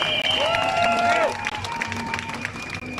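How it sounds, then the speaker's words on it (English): A crowd at a freedom march applauds outdoors, steady clapping mixed with whistles or cheers and voices over the top for a few seconds. "Round of applause, people."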